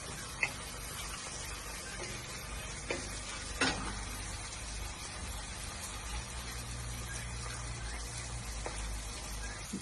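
Onions with a little salt frying in a pan for goat sambar, a steady sizzle running throughout with a few sharp stirring clicks, close and moderately loud, no talking.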